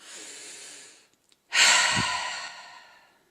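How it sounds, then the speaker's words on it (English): One person breathes slowly during a guided meditation: a soft, airy inhale, a short silence, then a longer, louder exhale sighing out close to the ear. "I'd like you to take a breath in and out."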